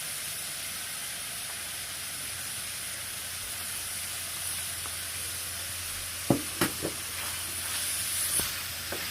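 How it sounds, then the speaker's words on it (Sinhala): Chili flakes and Bombay onions stirred in a hot pan give a steady, close frying sizzle with a continuous hiss, and a few sharper spoon scrapes and knocks come near the end, with no talk. "මම මේකට දැන් එක්කාසි කරනවා මේ මාළු මිරිස් ටිකයි මේ බොම්බයි ලුණු ටිකයි"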